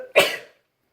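A single sharp sneeze bursts out close to the mic, loud and brief, then trails off into silence.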